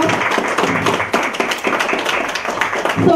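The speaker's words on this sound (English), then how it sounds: "Give you a round of applause" An audience at a migrant women's summit in a hotel function room gives a round of applause, many hands clapping fairly loudly and unevenly throughout.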